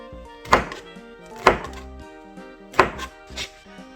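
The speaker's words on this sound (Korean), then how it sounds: "빨간색 파프리카도 동일하게 얇게 채를 썰어 주세요" A knife slices a red bell pepper into thin strips on a cutting board, three or four distinct sharp chops spaced about a second apart, close and clear against a quiet background.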